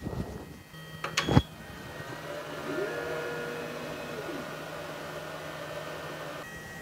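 An xTool M1 laser cutter engraving clear acrylic, a quiet steady whir with a faint tonal whine that rises and falls as the head moves, preceded by a brief sharp beep and a couple of small clicks.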